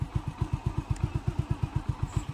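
A motorcycle rolls along slowly with a steady, even thumping from its engine, about seven beats a second, heard up close with nothing else over it.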